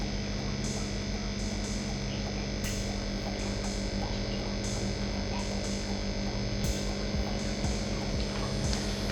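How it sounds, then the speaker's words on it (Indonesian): An aquarium aerator air pump running at medium setting in a tank of settled tap water for culturing artemia gives a steady, continuous low hum with a faint bubbling hiss, unbroken throughout. "kemudian kita nyalakan aeratornya"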